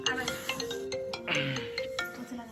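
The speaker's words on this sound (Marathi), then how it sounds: "इकडं अण्णाचा कॉल आला बघा अण्णाला कॉल आला बघा" A mobile phone rings for an incoming call, its electronic ringtone melody sounding steadily throughout, with someone talking over it.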